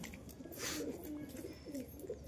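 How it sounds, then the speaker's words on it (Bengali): A large male betting pigeon coos in low, soft rolling phrases, two or three murmured coos close by over a steady background hum, faint and without talking. "নর কবুতর।"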